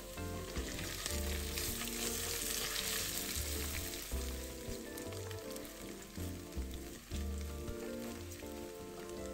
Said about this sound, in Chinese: 小红葱片转金黄色后，再将香菇2朵切成粗丝倒入一起炒香